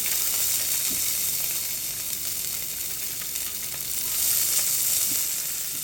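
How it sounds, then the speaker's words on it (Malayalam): Cashews and raisins fry in ghee for payasam, a steady close sizzle with brief stirring sounds and a slight swell near the end. "അണ്ടിപ്പരിപ്പിന് കളറൊക്കെ കുറച്ച് മാറിയതിന് ഞാൻ ഇത് കിസ്മിസ് ഇട്ട് കൊടുക്കട്ടെ."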